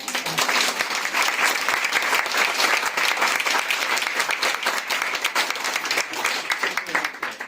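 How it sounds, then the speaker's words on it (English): A school audience gives a long, warm round of applause at a teacher's retirement, dense, even clapping from many hands that carries on for several seconds before easing off. "can we give him a round of applause?"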